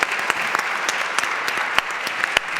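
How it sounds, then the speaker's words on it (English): An audience applauds a security conference panel, steady clapping from a hall crowd, loud and continuous throughout with a few sharper individual claps standing out and no talking. "give them a great round of applause"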